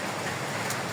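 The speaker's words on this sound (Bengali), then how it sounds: "আর কি সুন্দর বৃষ্টি হচ্ছে বাইরে।" Rain falls outside a village house during a storm, a steady, dense hiss of drops with no voices, brief and even in level.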